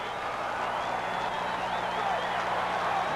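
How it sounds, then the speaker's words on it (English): A football stadium crowd roars at a 1980 college game between North Carolina and Oklahoma, a dense, loud, sustained wash of cheering that stays steady throughout. "This crowd is still roaring over the Alabama score."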